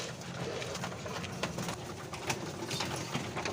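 Pet pigeons coo softly and repeatedly nearby during trapping of young birds, low throaty calls over a rustling outdoor background.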